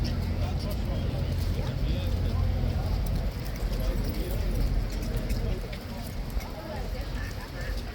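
Horse hooves clip-clop on pavement at a busy tourist spot, a steady, moderately faint clatter set against the wash of crowd noise and passing traffic, with voices talking nearby.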